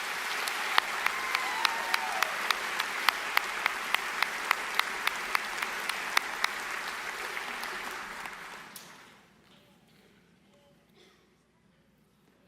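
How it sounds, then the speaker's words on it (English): Big audience applause for the graduating class of 2024 at a high school commencement, loud and sustained with scattered sharp claps standing out, then fading quickly to near silence with a few last stray claps. "please join in another round of applause for Manheim Central's class of 2024"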